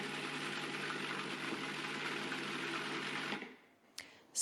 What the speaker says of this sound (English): you know that it's enough olive oil when the mixture has a nice pale green color and it makes a gargling sound